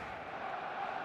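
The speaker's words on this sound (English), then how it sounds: "There's a real expectant buzz in the stadium" Stadium crowd in the eFootball game, a steady expectant murmur of many voices blending into a dense, even hum with no distinct cheers or peaks, faint and continuous.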